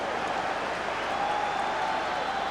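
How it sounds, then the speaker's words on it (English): A football stadium crowd applauds during a Rangers versus Hibs match, a broad continuous roar of clapping and crowd noise at a steady level throughout, with no distinct voice standing out. "and it draws applause"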